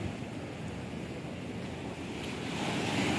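Rough sea waves surge and wash near a fishing spot in Jeddah, a continuous churning roar mixed with wind buffeting, swelling a little louder toward the end.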